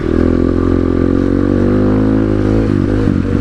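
A GPX Moto FSE 250e dirt bike's engine drones loud and close on an off-road trail at Five Mile Pass, holding a steady buzz before dipping and surging briefly near the end.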